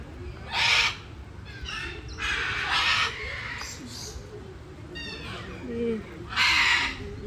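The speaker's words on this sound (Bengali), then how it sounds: "মাকাও পাখি এগুলো ডাকছে।" Several loud, harsh macaw squawks burst out in separate calls spread across the clip, over steady rain-like hiss and low background chatter, at an eco park.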